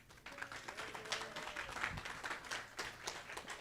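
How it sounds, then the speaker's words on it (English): Faint audience applause at a Libertarian Party of Arkansas convention speech, a steady patter of clapping from a crowd heard at a distance. "you guys need to give yourself a round of applause"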